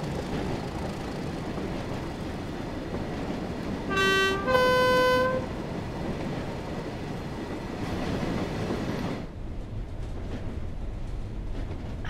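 A Pendolino passenger train rushing by in the Train Sim World 3 simulator, with a steady rumbling roar throughout, a short two-part horn toot partway through, and the noise cutting off abruptly near the end.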